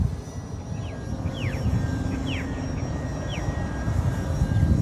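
Small RC model airplane engine buzzing steadily in the air at a coal port, heard over strong wind rumble with a few brief chirp-like whistles.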